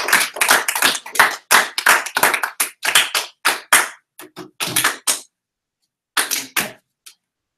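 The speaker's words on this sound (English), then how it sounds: "Give it a nice round of applause for Miss Lexi." A small class claps for a student at a spring project showcase, loud close sharp handclaps in irregular bursts that thin out, stop, then return briefly before ending.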